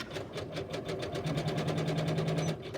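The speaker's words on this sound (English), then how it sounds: "now it's going to do a double line of stitching to hold your batting down" A quilting sewing machine runs a double line of stitching through fabric and batting, its needle tapping in a fast, even rhythm with a steady motor hum, close and alone.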